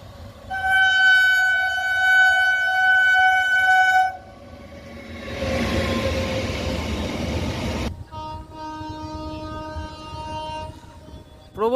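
The Howrah-Dhanbad Coalfield Express, train 12339, races through a railway station at speed, its horn blaring in long loud blasts, then a roaring rush of wagons and more horn as it passes close by.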